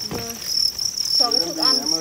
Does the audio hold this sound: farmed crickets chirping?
yes